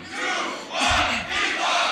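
Crowd at a beatbox showcase battle shouting in unison, two loud bursts of voices roaring out a countdown in response to a host, filling the room with broad noisy cheering.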